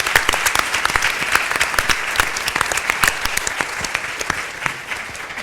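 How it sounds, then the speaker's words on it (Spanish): An audience at a conference question session breaks into sustained applause, dense overlapping claps filling the full stretch at steady loudness with no voices over them. "un gran aplauso"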